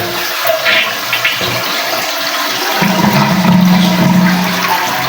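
Toilet flushing after its float was adjusted in a repair: a loud rushing gurgle of draining water builds into a steady refill hiss, close and alone.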